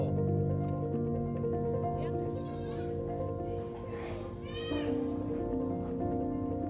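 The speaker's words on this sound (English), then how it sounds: "A lot of people come from far away to see the goats, and they're really amazed." Farm goats, including young ones, bleat repeatedly at close range, with several overlapping cries, over a steady background of voices.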